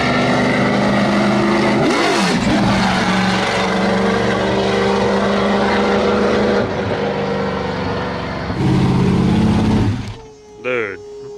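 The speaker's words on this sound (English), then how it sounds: "Boy, this thing sounds good. That ITB NASCAR motor" An RTR Mustang with an ITB NASCAR engine roars loud and close, revving up and down through gear changes before cutting off sharply near the end.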